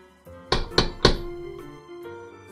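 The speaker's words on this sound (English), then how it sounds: "there was a loud knock at the door." Three loud, hollow knocks strike a door in quick succession, followed by a lingering musical tone beneath.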